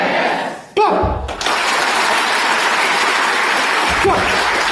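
Students in a college classroom burst into loud, sustained group clapping right after a brief voice, the dense applause continuing steadily to the end.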